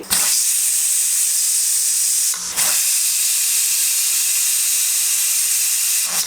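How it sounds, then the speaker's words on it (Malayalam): Loud, steady steam hiss from a pressure cooker whistle on a medium flame, broken by two brief pauses before resuming. "നമ്മുടെ പ്രഷർ കുക്കറിൽ 5 വിസിൽ വന്നിട്ടുണ്ട്"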